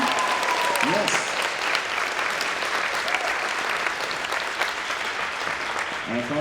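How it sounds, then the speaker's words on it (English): An audience at a middle school spring concert applauds a bell soloist, dense steady clapping filling the hall throughout, with a voice or two briefly audible within it. "Please, let's hear a nice round of applause for Abby Leonard, ladies and gentlemen."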